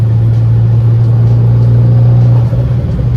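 A turbocharged Abarth 595 runs steadily on a dyno with a loud, constant droning engine note and heavy low rumble, with no clear revs or gaps.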